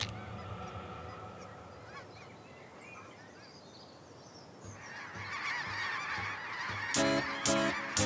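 A large flock of Ross's geese over fields in Saskatchewan honks continuously, a dense chorus of calls that grows louder and nearer, with a few sharp cries standing out.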